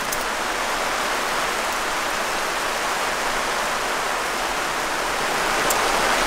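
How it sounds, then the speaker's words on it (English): Heavy rain pouring down over a permaculture food forest orchard, a dense, loud, unbroken hiss of falling water lasting throughout with no voices. "All right, so it started downpouring, and we don't think that it's gonna let up tonight"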